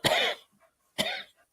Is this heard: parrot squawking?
no